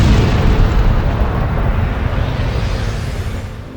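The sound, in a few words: exploding star sending a shockwave, sound effect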